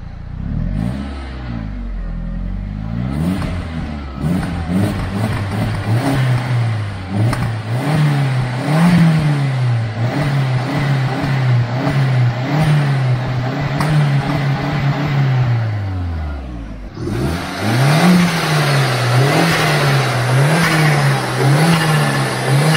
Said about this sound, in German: wie der Turbo-Sound sich anhört, wie der Auspuff-Sound sich momentan anhört